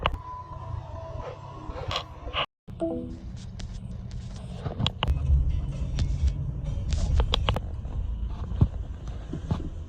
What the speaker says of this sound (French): une Mustang GT verte couleur exotique